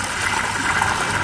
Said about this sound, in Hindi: ये पानी इसमें डाल दिया है,